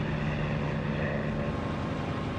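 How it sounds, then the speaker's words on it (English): Steady, loud propeller engine drone heard from inside a cockpit in the DCS flight simulator game, a constant low hum and buzz with no talking. "So that's just like engine sound from only inside the aircraft."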